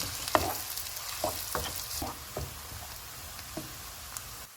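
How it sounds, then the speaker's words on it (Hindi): Steady sizzling of chopped onion frying in hot oil for tarka daal, with occasional pops and a few stirring knocks, fairly quiet and close. "ऑयल गर्म हो गया, इसमें चॉप किया हुआ एक प्याज डालेंगे।"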